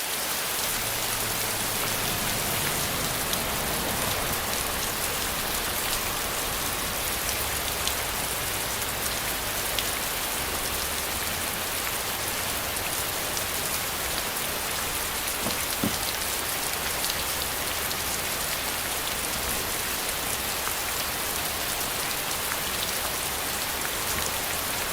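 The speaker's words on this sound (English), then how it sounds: "here's actually a little scene that I did with the car and the rain machine" Steady, dense artificial rain from a DIY rain machine patters evenly on a hard surface and a car for the whole stretch, a constant hiss with scattered drops and no voices.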